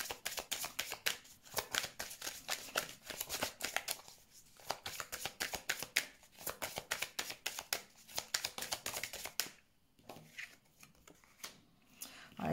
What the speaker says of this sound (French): Je vais mettre des cartes sur cet arrêt pour voir un petit peu.